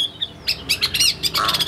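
A Chinese hwamei songbird sings close and loud, delivering a quick series of bright, sharp whistled notes and chirps in bursts with brief gaps.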